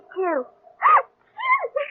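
A man's single sharp, voiced sneeze in a 1960s television drama, close and loud, set between brief snatches of nearby speech.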